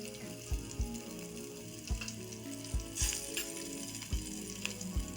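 Cumin seeds and a chopped green chilli sizzle in hot oil in a pan, a steady crackling fry close by. Several dull knocks land at an irregular pace, and no one speaks.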